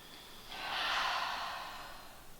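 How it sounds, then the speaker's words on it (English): A single slow, deep breath drawn in through the nose and let out through the mouth during a home yoga session, a soft airy swell that rises and fades over about two seconds, close and quiet with no talking. "let's just begin by taking a deep breath in through the nose and out through the mouth"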